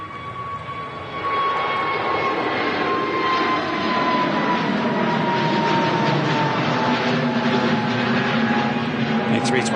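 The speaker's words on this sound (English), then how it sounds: "A320 Neo departing." Airbus A320neo airliner departing Manchester Airport, a loud sustained jet engine roar that builds early and holds steady with a slowly falling whine, heard close and continuous with no talk.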